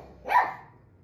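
A dog gives one short, near bark that swells and trails off, sounding along with a college fight song; no speech is heard and the music is barely present.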